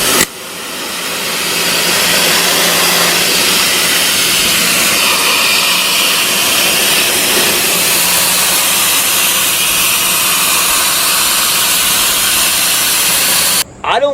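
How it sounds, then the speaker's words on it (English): Greenworks 2000 PSI pressure washer running steadily up close, a loud continuous broadband hiss and motor roar that holds unbroken for most of the stretch before cutting out briefly near the end. "Today's video is going to be on the Greenworks 2000 PSI pressure washer"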